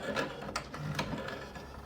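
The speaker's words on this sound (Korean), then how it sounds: "이렇게 공급기에서 헤드 쪽으로 넣어주는 펌핑 소리가 납니다" An HP OfficeJet 9010 inkjet printer pumps ink from the supply toward a newly replaced printhead, making soft, close, repeated mechanical pulses and whirring with no talking.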